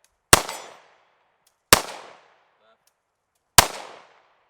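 Three sharp, loud pistol shots from a Ruger 57 and an FN Five-seveN at an outdoor range, evenly spaced over a few seconds, each with a short decaying echo and no talk in between.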